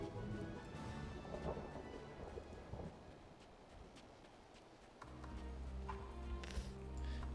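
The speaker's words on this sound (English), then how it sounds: "Oh, I didn't even realize that we were in a thunder area." Thunder in the video game Final Fantasy XIV Endwalker, low rumbling roll fading then returning with a deeper swell, under faint tonal game music and scattered light crackles, no speech.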